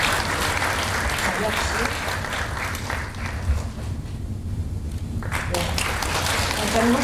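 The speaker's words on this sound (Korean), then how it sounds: "올라오실 때 박수로 격려해 주시면 감사하겠습니다" An audience at a mayoral candidate policy presentation applauds as a candidate comes onto the stage, steady clapping that dips midway and swells again, with a brief voice over it.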